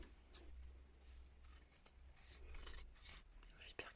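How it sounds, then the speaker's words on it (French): Scissors snip through jeans fabric for a homemade denim bag, giving faint, close, irregular crunchy cuts and rasps in a quiet room. "je coupe"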